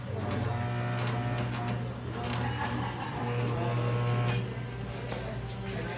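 Arc welding with a welding handle in a shop, giving a crackling, buzzing hiss with uneven bursts and a steady hum beneath, close and moderately loud.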